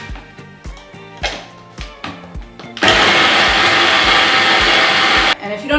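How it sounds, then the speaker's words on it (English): A small electric chopper grinds onion and garlic for a stuffed grape leaf and rice filling. A loud, steady whirring burst lasts about two and a half seconds, preceded by softer knocks and tones. "We're going to grind them up. You could chop them by hand, really, but I like to use my little machine."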